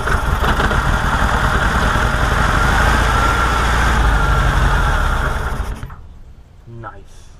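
A 1966 Volkswagen Karmann Ghia engine, parked since 1984, runs on a siphon-fed carburetor with a loud, steady close-up drone that cuts out near the end before a brief faint sputter.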